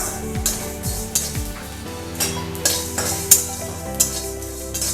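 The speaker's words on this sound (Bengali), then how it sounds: "এগুলোকে আমি একটু শুকনো খোলায় ভালো করে ভেজে দিচ্ছি।" Black cumin and black mustard seeds dry roast in a hot pan, a soft crackling hiss with rhythmic spatula scrapes and light metallic taps, close and steady, with no talking.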